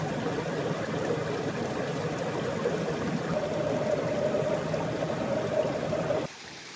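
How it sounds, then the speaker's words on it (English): A stream on a Big Sur hiking trail near Cone Peak flows in a steady, close rush of water that runs unbroken and then drops suddenly quieter at the end, with no voices. "Gotta cross the stream like 10 times"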